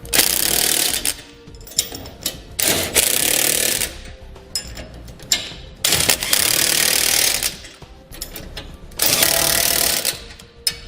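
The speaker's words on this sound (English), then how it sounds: "We're going to use a 3/4" socket and wrench to tighten it down." A 3/4-inch socket and wrench tighten the cross tube bolts on a TorkLift SuperHitch trailer hitch receiver, with four loud, close bursts of harsh mechanical rattling separated by short pauses.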